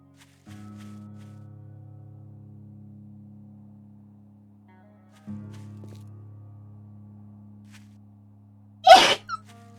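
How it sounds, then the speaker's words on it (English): A single sharp sneeze bursts out near the end, loud and close, after a stretch of quiet steady low hum from a computer or game setup. "It's cute sneezes, I love it."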